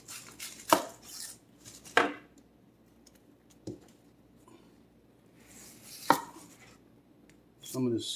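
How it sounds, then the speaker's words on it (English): A knife slicing a tomato in half on a cutting board: a few sharp, separate knocks spaced by quiet gaps, close and fairly loud, with a soft shuffle at the end. "Take the tomato, and we'll just slice it in half"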